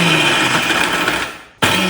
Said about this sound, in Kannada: ಈಗ ಇದನ್ನು ಒಂದು ಮಿಕ್ಸಿ ಜಾರ್ಗೆ ಹಾಕೋಣ. ಇದನ್ನು ಸ್ವಲ್ಪ ತರ್ತರಿಯಾಗಿ ರುಬ್ಕೋಬೇಕು.